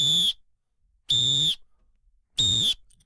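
Three long, shrill whistle blasts, each about a third of a second, sound loud and close with even gaps of about a second between them and no other sound around them.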